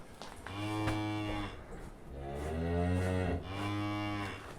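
A cow on a village farm lows for her calf, giving two long, loud, harmonic moos close by, the second swelling and lasting longer, with no other voices.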